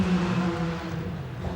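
Porsche race car at the 1996 Le Mans 24 Hours, its engine droning steadily with a sustained tonal whine, loud and continuous throughout.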